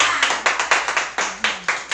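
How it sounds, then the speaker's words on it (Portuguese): Audience clapping at a festive carnival-themed gathering, a quick run of about eight sharp hand claps in a steady, even rhythm, fairly close and clear with no talking over it. "Palmas pra Renata, né, gente?"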